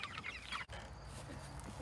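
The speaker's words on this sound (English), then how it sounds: "See the chickens and stuff." Chickens clucking close by, a steady run of short clucks over low farmyard rumble, with one brief dropout partway through.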